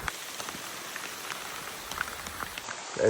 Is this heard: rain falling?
yes